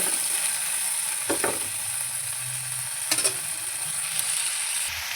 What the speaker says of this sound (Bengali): চিংড়ি মাছটা এখানে ভাজা হচ্ছে